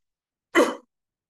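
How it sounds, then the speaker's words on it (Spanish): A single short cough, close and moderately loud, surrounded by silence. "Es la tos que tengo."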